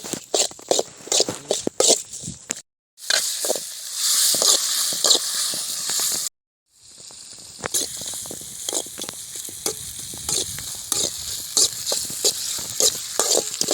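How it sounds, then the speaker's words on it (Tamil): Tomatoes and salt sautéing in hot oil for a country-style crab gravy cooked outdoors in a village, a loud close sizzle broken by scraping stirs and two brief silent gaps, with no talking. "தக்காளி போட்டோன்னே உப்பு போட்டோம்னா நல்லா அந்த தக்காளியில் உள்ள இதெல்லாம் நல்லா வதங்கும்"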